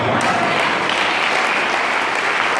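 Church congregation applauding during a French-language sermon, a dense, loud, continuous wash of clapping from many hands filling the room.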